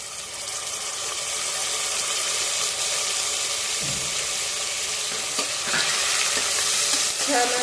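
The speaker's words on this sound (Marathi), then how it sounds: "मंद आचेवर आपल्याला ते परतवायचं आहे म्हणजे टोमॅटोही छान असे शिजून जातील" Onion and tomato sauté in a pan for chicken pulao, giving a loud steady sizzle with occasional stirring scrapes and clinks, close up and with no talking.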